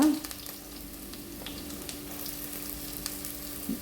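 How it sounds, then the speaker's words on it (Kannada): Onions sizzle in hot oil in a clay pot, a steady close frying hiss peppered with small crackles and a faint background hum. "ಈಗ ಎಣ್ಣೆ ಬಿಸಿಯಾಗಿದೆ, ನಾವು ಈರುಳ್ಳಿಯನ್ನು ಹಾಕುವ."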